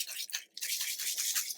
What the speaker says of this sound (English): Pepper seasoning rub. Sprinkle it on.